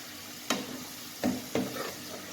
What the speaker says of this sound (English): I will keep it frying for 2 minutes more till the bitter gourd is softened